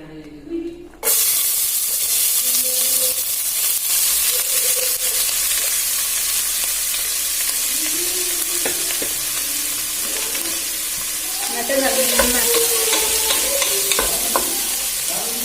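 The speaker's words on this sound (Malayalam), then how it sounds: "സൺഫ്ലവർ ഓയിൽ ആഡ് ചെയ്തിട്ടുണ്ട്. ഇനി നമുക്ക് ഇതിലേക്ക് സവോള ഇടാം" Chopped onion sizzles in hot sunflower oil in a pan, a steady loud frying hiss that starts abruptly after a brief quiet moment, with scraping stirs and crackles and a brief surge near the end.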